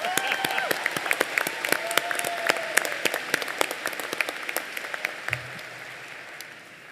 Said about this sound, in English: Let's all give Mr. Radnai a big round of applause